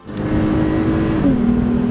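A Lexus F Sport driven at over 100 miles an hour, a loud steady engine drone and road roar from inside the car, with the engine tone shifting slightly partway through.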